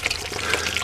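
Water draining from the engine oil of a 1947 one-and-a-half-ton dump truck, a steady close splashing trickle with dripping, heard on its own without speech.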